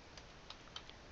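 Faint keystrokes on a computer keyboard as a command is typed, a few soft clicks spread over a second against a steady hiss.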